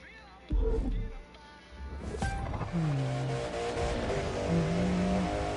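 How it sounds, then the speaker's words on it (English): Loud car engine in the racing video game The Crew 2, revving with rising and falling pitch and brief tire squeal, with a short thud near the start. "This car's pretty loud."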